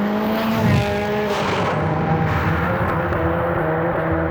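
A 1990s car engine revs loudly with a throaty exhaust note, pitch rising and falling as it accelerates, close and prominent.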